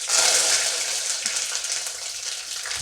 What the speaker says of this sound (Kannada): ಒಗ್ಗರಣೆಗೆ ಎಣ್ಣೆ ಹಾಕ್ಕೊಂಡಿದ್ದೀವಿ. ಈಗ ಸಾಸಿವೆ ಹಾಕ್ಕೊಂಬಿಡೋಣ.